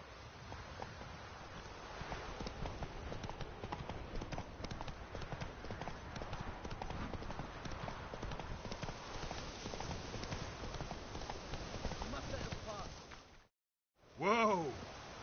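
Roach the horse gallops in The Witcher 3, a fast, steady clip-clop of hooves close by over wind and rustle that runs for about thirteen seconds, then drops out briefly before a louder burst returns.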